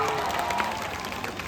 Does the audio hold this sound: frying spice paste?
no